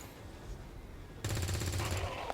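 A soldier fires a shot in XCOM 2: after a quiet stretch, a sudden loud burst of gunfire cuts in and continues as rapid repeated cracks with a low rumble beneath.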